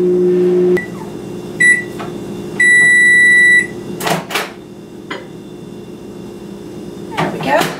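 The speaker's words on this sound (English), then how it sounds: "I'm going to microwave this for about 10 seconds." A microwave oven heats a small dish of coconut oil, its steady hum running through the start and cut off after a few seconds, followed by several loud electronic beeps, a door opening, and some quiet handling.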